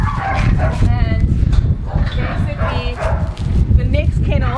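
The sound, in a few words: dogs barking in animal shelter kennel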